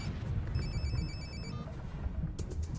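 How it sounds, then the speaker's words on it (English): A telephone rings in Moscow's Sokolniki Park in 1994, giving one short burst of bright, warbling electronic tone over a steady low rumble of background noise. "Pick up the phone."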